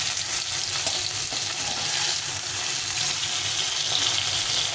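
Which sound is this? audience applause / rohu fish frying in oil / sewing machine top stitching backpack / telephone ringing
rohu fish frying in oil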